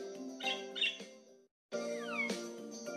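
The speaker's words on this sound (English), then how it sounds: "I hear the bird singing." A bird sings in two bursts of bright chirps and warbling trills separated by a short silence.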